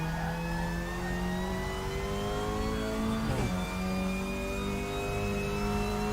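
A Cupra touring car from WTCR 2020 in the RaceRoom Racing Experience game whines steadily under load, its pitch climbing, then dipping at a quick gear change before rising again. Continuous and close, with no talk.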